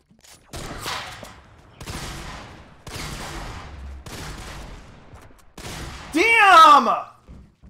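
SMG gunfire in the video game Fortnite comes in five rapid bursts, separated by short pauses, and a voice exclaims briefly at the end.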